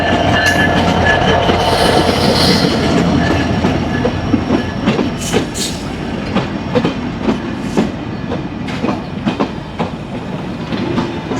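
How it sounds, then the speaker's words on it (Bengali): The red and green Rupsha Express intercity train, running from Chilahati to Khulna, pulls into Pakshi railway station with loud rumbling, rhythmic wheel clatter and squealing brakes that ease off as it slows, with no voices. "নির্ধারিত সময়তে 20 মিনিট বিলম্বে পাকশি রেল স্টেশনে প্রবেশ করছে আন্তনগর রূপসা"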